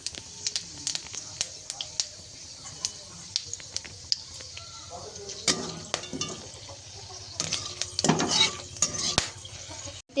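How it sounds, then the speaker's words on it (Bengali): Metal spoon scraping and tapping in a pan as whole garam masala and panch phoron are stirred into hot oil, close by, with light sizzling and a few louder clatters near the end. "ওই তেলটা কমিয়ে নিয়ে ওর মধ্যে দিয়ে দিচ্ছি গোটা গরম মশলা আর 5 ফোড়ন"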